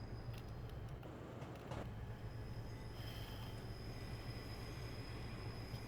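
An LNER HST set in Train Simulator 2020 runs steadily along the Harrogate loop, a constant low rumble of wheels and engine with faint high rail squeal and occasional clatter, continuous throughout with no voices.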